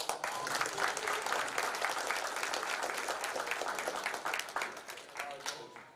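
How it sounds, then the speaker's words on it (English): An audience at a youth 14U national championship media day claps and applauds steadily and densely for several seconds, fairly close, tapering off toward the end, with a voice briefly audible over it. "Y'all clap it up."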